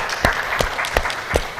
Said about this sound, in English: let's give our candidates a round of applause for being here today